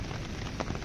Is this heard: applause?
no